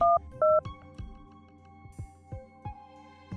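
Telephone keypad dialing, two clear tone beeps followed by a series of short clicks and faint tones, close and quiet with no voices.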